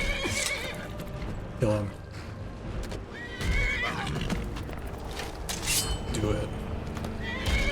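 A horse in the video game Skyrim whinnies loudly and close, with clip-clopping hooves amid combat noise and game music, while people talk over it.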